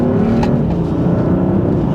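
A BMW M car pulls hard from second gear with a loud, continuous engine roar that climbs steadily in pitch, close and unbroken, with no voices.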